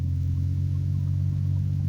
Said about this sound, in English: I better dump her down to another gear because I got a pretty good load on that trailer